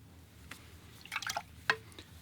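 Watercolor paint flicked from a brush onto paper for a seascape makes a few faint, quick wet spatters and drips, close by, in a quiet room.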